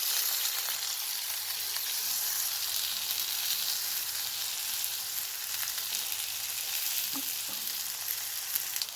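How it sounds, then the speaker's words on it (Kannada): Brinjal frying in oil in a pan for a Kerala-style curry, a loud, even hiss of sizzling that runs unbroken, with a couple of faint stirring knocks near the end, no voices. "ಓಕೆ, ಫ್ರೈ ಆಗಿದೆ ನೋಡೋಣ. ಟರ್ನ್ ಮಾಡ್ಕೊಳ್ಳೋಣ ಈ ಥರ."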